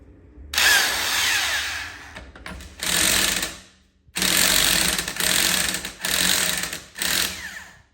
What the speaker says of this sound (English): I'm going to use this impact wrench to remove the lug nuts and remove both wheels